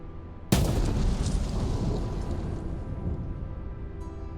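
A mining blast detonating in the Out Of Ore video game. One sharp, loud boom hits suddenly, then a long rumbling roar slowly fades, with no talk over it.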